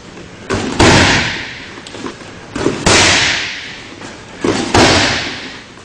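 Three heavy shin kicks land on a body in kickboxing, each a sharp loud thud followed by a fading rush, spaced about two seconds apart.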